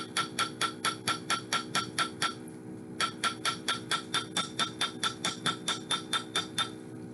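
A hammer's round face taps wire on a metal mandrel while shaping a soldered bangle, a fast even run of sharp ringing strikes, one short pause mid-way, close and without talk.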